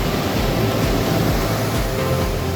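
Loud, continuous roar of ocean surf, a dense wash of breaking waves with no pauses, close by and heavy.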